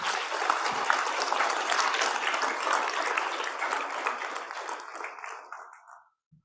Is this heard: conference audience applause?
yes